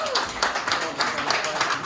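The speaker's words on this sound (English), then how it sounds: "Ladies and gentlemen, one more round of applause for Mr." Audience applause at a talk by Daniel Kramer at Duggal, a dense wash of many hands clapping steadily and fairly close throughout, with a faint voice briefly under it.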